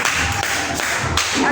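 A church congregation claps together in a brief burst of fairly loud, dense, rhythmic applause with no voices heard.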